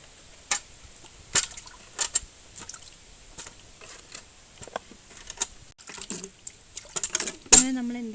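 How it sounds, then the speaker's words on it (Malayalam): Mangoes dropped one by one into an aluminium bucket of water: scattered sharp knocks and plops, then a few wetter splashes and swirls near the end, fairly close. "മാങ്ങയെല്ലാം വെള്ളത്തിലേക്ക് ഇടാം"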